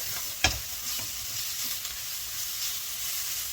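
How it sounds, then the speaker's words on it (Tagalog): Mushrooms for a carbonara sauce sauté in a pan with a steady soft sizzle, broken by a sharp clatter and a few stirring scrapes, with no talking. "So, hintayin po natin siyang mag-brown. Saute it."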